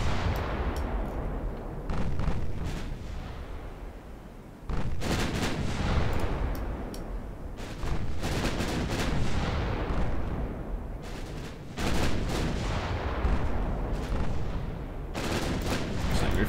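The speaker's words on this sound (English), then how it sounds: "I'm firing a mixture of things. A couple of HE shells in the mix." Warship guns fire high-explosive shells in the naval game Ultimate Admiral Dreadnoughts: five heavy booming salvos at irregular intervals, each with a long rumbling decay under continuous engine and sea noise.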